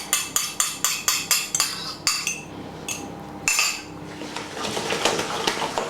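Spoon rapidly beating apple and lemon drizzle cake batter in a bowl, giving a string of regular, bright clinking knocks against the side. It pauses briefly, resumes in a few strokes, then settles into softer scraping and mixing.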